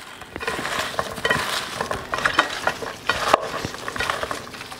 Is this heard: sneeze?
no